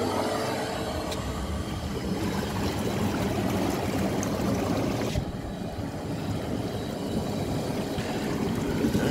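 Jets churn water inside a homemade IBC hot tub, a continuous close rushing, bubbling whirl that holds steady throughout with no voices.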